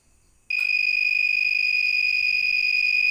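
The buzzer of an LDR light-sensor circuit switches on abruptly after a short silence, then holds a loud, steady, piercing electronic tone with no break to the end.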